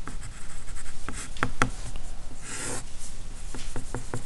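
Pen or pencil scratches steadily on paper while a worked physics problem about a 50 kilogram mass is redrawn, giving close, continuous scribbling with a few sharper taps and strokes.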